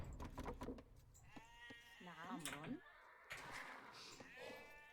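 Sheep in a strategy video game bleat a few times in quick succession, with wavering, quavering calls standing out at moderate volume among short clicks and other game sounds.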